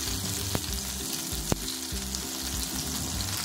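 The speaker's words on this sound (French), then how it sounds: "on va essayer de les saisir de tous les côtés pour apporter une couleur uniforme" Chicken ballotines searing in a hot frying pan, turned to brown on every side: a loud, steady, dense sizzle of fat throughout, with a couple of brief sharp clicks from handling in the pan.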